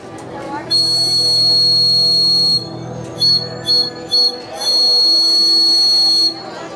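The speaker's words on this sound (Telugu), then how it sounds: "ఇక్కడ ఈ విజిల్ సౌండ్ ఎలా వస్తుందో ఒకసారి చూడండి." A small bird-shaped whistle is blown in loud, shrill bursts: one long blast, a few short toots, then another long sustained tone, close to the microphone.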